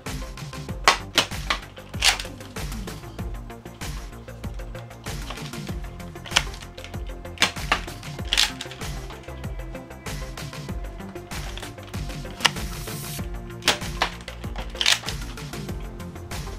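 Nerf blaster shooting standard Elite darts in a firing test: a series of sharp snapping shots spaced irregularly over several seconds, close and fairly loud, each followed by brief mechanical clatter and priming noise.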